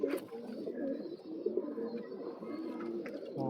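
A female pigeon, one of a pair kept at home, coos softly and repeatedly at close range, a low, throaty rolling call with short pauses.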